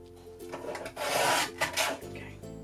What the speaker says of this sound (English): I'm just going to trim it with the trimmer.